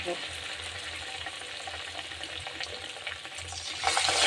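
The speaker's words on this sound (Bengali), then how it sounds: "একে একে আমি এগুলো হালকা আঁচে ভেজে নেবো, লাল হওয়া পর্যন্ত।" Patishapta rolls fry in light oil over low heat in a home kitchen, a steady soft sizzle throughout that grows louder near the end, with no talk.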